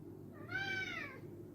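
A house cat gives a single drawn-out meow, close and clear, rising and then falling over about half a second against a low steady background hum.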